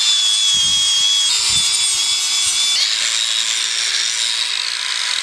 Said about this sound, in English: now all I'm gonna do is take the grinder with a sanding disc and just lightly do all the rough parts, sand them down